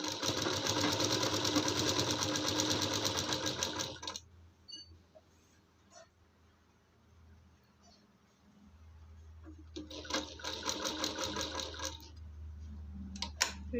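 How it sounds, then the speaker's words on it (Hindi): A sewing machine stitches a fitting seam on a young girl's kurti, whirring loudly for about four seconds, pausing amid quiet handling sounds, then resuming in two more bursts of rapid stitching. "अब फिटिंग का सिलाई लगाते जाएंगे।"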